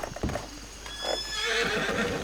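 A horse in a video game whinnies and neighs, with clip-clop hoofbeats at the start, close and clear with no talk.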